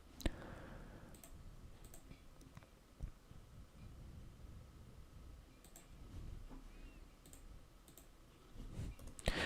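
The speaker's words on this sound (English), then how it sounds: "Let me just click on continue." A computer mouse gives a few sparse, faint clicks in a quiet room, widely spaced over a low background hum.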